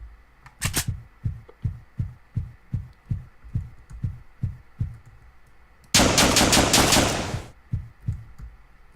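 Gunfire in the pixel-art game Deadbolt comes as a string of evenly spaced thumping shots, then a dense burst of rapid fire, loud and close, with no voices over it.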